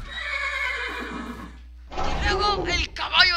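A pegasus horse from the Minecraft Mo' Creatures mod whinnies in a long, wavering neigh, followed after a short gap by a second, rougher burst of neighing, close and fairly loud.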